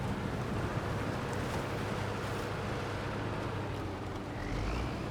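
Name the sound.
truck driving through swamp water in the video game SnowRunner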